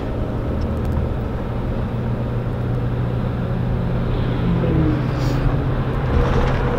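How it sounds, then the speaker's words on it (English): A Toyota Tundra truck towing an empty dump trailer, with a steady, fairly loud engine and road rumble heard from inside the cab, continuous and unbroken with no talking. "when you're towing this dump trailer, it's just, it's a lot to pull around, even empty"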